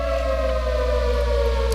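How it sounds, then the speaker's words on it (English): A steady, loud wailing siren from the Rigs of Rods Monster Jam video game, sounding continuously and alone at an even pitch through the whole stretch. "that siren can only mean one thing"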